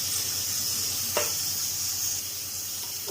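Half a cup of cooking oil heating in a kadai on the stove, a steady soft sizzle and hiss with one brief sharp clink partway through, close and even with no talk.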